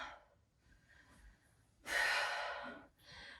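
A single loud, long breath during a hot yoga HIIT workout, a heavy airy exhale that follows quieter breathing and trails into another softer breath, close and alone with no talk.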